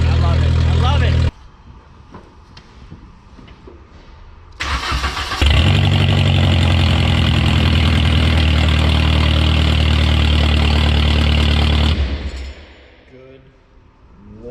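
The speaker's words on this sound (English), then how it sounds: "Good Lord, this car is so loud." A loud 1.8T-swapped VW Golf 3 engine starts up and runs, a steady heavy roar holding close for several seconds before dropping back toward idle, with brief voices near the start and end.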